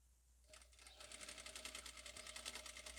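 A sewing machine stitches a narrow border onto a cotton dish towel, starting up after a quiet moment and then running in a fast, even rhythmic clatter, close and alone.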